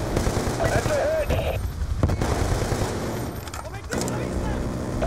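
Rapid automatic gunfire crackles in Call of Duty Black Ops 2, bursts of shots layered over game noise and radio-style voice callouts, loud and close throughout.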